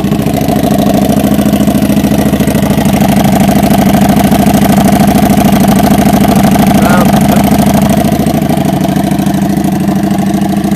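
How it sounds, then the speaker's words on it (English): A Harley motorcycle engine idles with a steady, throbbing mechanical rumble, loud and close, holding an even rhythm throughout with no change in pace. "that's the sound you will get out of this particular motorcycle"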